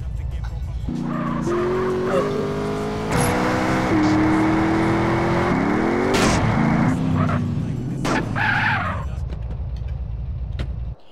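A car in a GTA SA-MP multiplayer game drives with a loud, steady engine drone, then tires squeal and skid hard partway through, while someone briefly speaks over the game sound.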